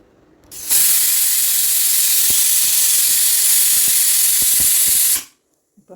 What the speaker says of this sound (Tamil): இப்போ நம்ம குக்கர் வந்து பீட்ரூட் வந்து நல்லா ஒரு 2 விசில் வெந்துருச்சு.